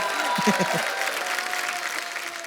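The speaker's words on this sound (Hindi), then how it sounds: "किरण जी से पहले जीवन साहब के लिए जोरदार ताली हो।" Studio audience at a Hindi television comedy show breaks into strong, sustained applause for a veteran Bollywood actor. A dense, even wall of clapping runs throughout, with a brief low voice near the start.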